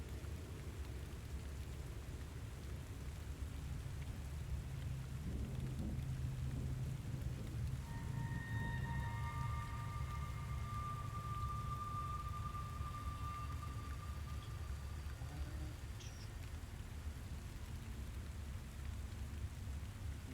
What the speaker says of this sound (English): So through the rain and the thunder,